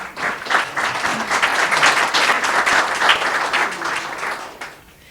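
Audience at a summit applauding steadily, a dense wash of clapping held at even strength before tapering off at the end.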